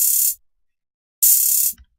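A synth note pattern programmed in FL Studio plays two bright, buzzy bursts about a second apart, each lasting roughly half a second, the second ending in a short low blip.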